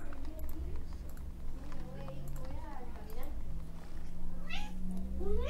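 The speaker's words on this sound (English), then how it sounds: "Cat, you need to shut up." A house cat meows repeatedly in the background while someone talks over strategy game audio, the meows rising as short, faint wavering cries amid steady music and voice.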